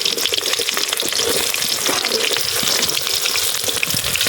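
Onions frying with mustard seeds in a pan outdoors in a forest, a loud continuous crackling sizzle with bursts of popping and spattering, close and busy throughout.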